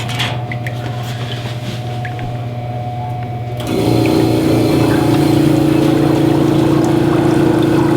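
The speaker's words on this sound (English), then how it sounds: "This is our fancy egg washing machine." An egg washing machine at a chicken farm runs with a steady mechanical drone from its small air compressor, then grows louder partway through as bubbling water churns in the sink, continuous and close.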